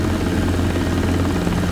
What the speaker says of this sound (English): The Robinson R22 is a light, two-seat helicopter known for its agility and efficiency.